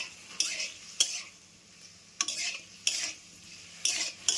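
A spoon stirs chopped tomatoes seasoned with salt and turmeric in a hot pan. About six sharp scraping strokes come at uneven intervals over a soft sizzle, close and clear, with no voices.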